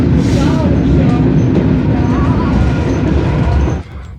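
A loud, rumbling train to Mangaļi arrives at a station in Saulkrasti, Latvia, with heavy low-frequency noise and metallic screeches, a voice talking underneath, the roar dropping off abruptly near the end.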